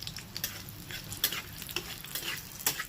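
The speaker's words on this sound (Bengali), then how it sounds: "রসুন আর কাঁচা লঙ্কাটা ভাজা হয়ে গেছে" Garlic and slit green chili fry in hot oil in a pan, a steady sizzle broken by repeated sharp scrapes and clinks of a spatula stirring, close and fairly quiet with no talking.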